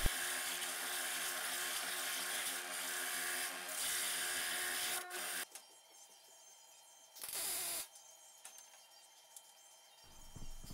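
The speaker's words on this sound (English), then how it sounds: "right here I'm just squaring off the one edge on my oscillating spindle sander" An oscillating spindle sander squares off one edge of a board in a workshop, a loud continuous whirring grind that drops to a quieter idle hum midway, then briefly surges again before settling.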